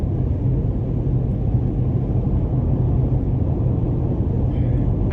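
Cabin noise inside a 2020 GMC Canyon SLE Elevation Edition 2WD cruising at speed: a steady low road rumble and muted wind rush, fairly quiet and unchanging throughout.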